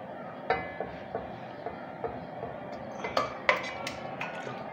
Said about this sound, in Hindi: सबसे पहले एक पैन में हम ये अपना मैरिनेटेड चिकन डालेंगे।